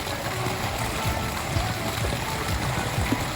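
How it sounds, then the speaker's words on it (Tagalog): River water flowing steadily, a continuous rushing and gurgling wash with small splashes, close and fairly loud, where a fisherman works a net. "Maganda pa rin ang agos ng tubig dito."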